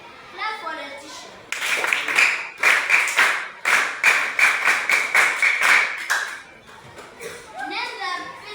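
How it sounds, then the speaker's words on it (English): Schoolchildren in a primary classroom clap in a quick, rhythmic burst of close, sharp claps lasting several seconds, with children's voices before and after. "Clap for Letitia."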